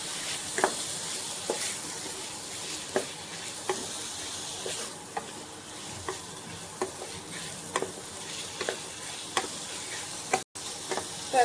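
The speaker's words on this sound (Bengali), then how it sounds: "তো এখন এগুলো একটু ভালো করে ভেজে নেব।" Chicken pieces fry with chopped green chilli and turmeric in a continuous soft sizzle, broken by regular scraping taps of a spatula stirring the pan about once a second, with no speech.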